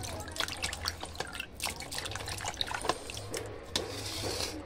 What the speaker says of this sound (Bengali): জল ঢেলে ভালো করে ধুয়ে নেব